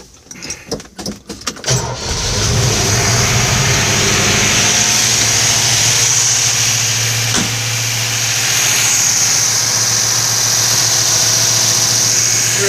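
A 1957 Chevrolet Corvette with a fuel-injected engine cranks over briefly, catches and settles into a loud, steady idle close by, with a low rumbling drone holding for the rest of the clip.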